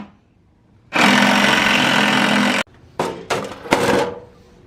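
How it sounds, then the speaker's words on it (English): A power drill drills out an old screw on the fender of a 2018 Jeep JK Wrangler Sport. It starts with a long, steady, loud whine, followed by three short, loud bursts. "we're gonna drill that last little thing out."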